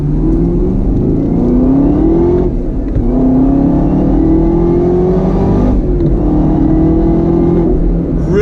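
A supercharged 2019 Chevrolet Camaro ZL1 pulls out in first gear and climbs through gears, a loud, deep roar with rising pitch sweeps and brief dips at the shifts.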